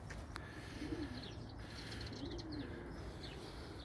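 Gök Takkalı tumbler pigeons in a loft make two soft, low coos over a faint steady background, with a few small chirps and one sharp tap near the start.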